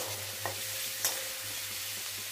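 Garlic fries in oil with a steady, even sizzle, broken by a couple of light clicks of stirring, close and quiet, with no voices.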